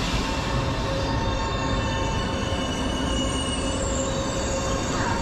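Train at a station, loud and close, a continuous rumble of rail cars with high wheel squeal running throughout.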